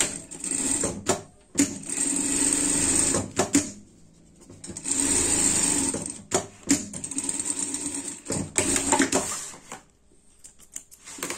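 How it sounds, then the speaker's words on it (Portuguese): An electric sewing machine stitches fabric for a car bed, running in steady buzzing bursts that start and stop several times with short pauses and clicks between runs, close and clear with no talk. "Aqui, arruma certinho e passamos uma costura aqui."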